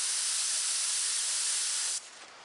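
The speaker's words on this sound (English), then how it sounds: "And spray it like that." A can of spray paint hisses in one steady, loud, continuous burst for about two seconds and then cuts off, misting along the edge of a paper template for a tribal design layout.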